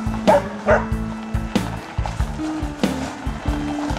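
A dog barks repeatedly at close range, a quick string of sharp, loud yaps with short gaps between them.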